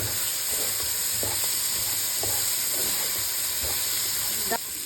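Soaked chana dal sautéing in a pan for a traditional Maharashtrian chawli leaf bhaji, giving a steady close sizzle with soft scraping stirs at a regular pace and a brief clink near the end.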